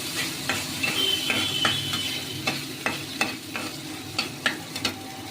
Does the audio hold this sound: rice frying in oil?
yes